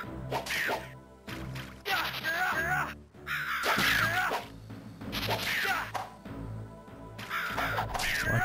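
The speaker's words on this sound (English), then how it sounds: "Oh my, there's so many birds." Crows cawing in the Game Boy Advance game Lord of the Rings: The Return of the King, with repeated harsh caws mixed with whooshing and thwacking combat effects, heard under a person talking.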